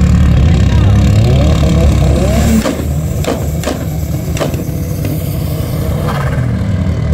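A Honda Civic Turbo D6 race car driven by a 17-year-old roars loudly at a quarter-mile drag race on an airfield, with a dense engine drone that drops off, then sharp pops and revs.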